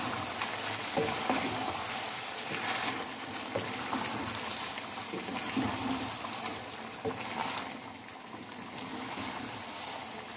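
Chicken biryani masala with tamarind and a splash of water sautés in a pan, giving a steady, fairly quiet bubbling hiss with faint crackles and occasional soft stirring knocks.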